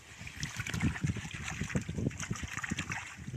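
Chili seedlings with their roots sloshed and rinsed in water, giving a run of irregular close splashes and drips at steady moderate loudness.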